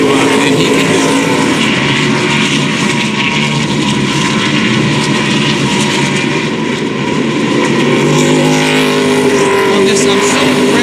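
Race car engines roar without a break at the 2002 Virginia 500 NASCAR race, a loud, dense, continuous drone of a pack of stock cars with a race commentator talking over it.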